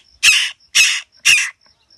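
A young crow caws three times in loud, close, evenly spaced harsh calls, each about a quarter second long, with short quiet gaps between them.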